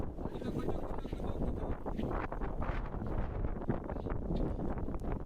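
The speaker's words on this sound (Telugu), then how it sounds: "చూడండి గాలి ఎట్లా వస్తుందో." Strong storm wind sweeps over the Ganga during a boat ride, a steady loud roar and buffeting on the microphone that lasts the whole stretch, with faint voices mixed underneath.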